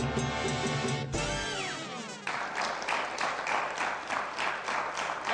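An audience at a heart health talk breaks into applause for the doctors, a dense wash of clapping that swells after a sustained musical tone fades. The clapping continues steadily and fairly loud.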